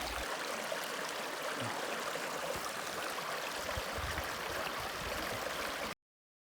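A shallow stream on the Ouachita National Recreation Trail, rushing and gurgling steadily at close range, with no footsteps or voices standing out, ending abruptly.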